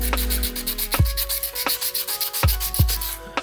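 An iPod being rubbed with an abrasive pad to remove scratches, a quick rhythmic back-and-forth scrubbing with sharp strokes close up, alone.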